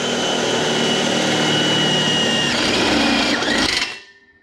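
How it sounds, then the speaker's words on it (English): A unibit step drill bores a hole in an exhaust pipe during a Camaro Magnaflow 3-inch straight-pipe install, giving a loud, steady grinding whine for about four seconds before stopping abruptly. "Stepping up to the unibit."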